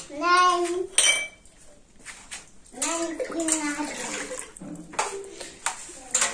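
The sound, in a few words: washing dishes with running water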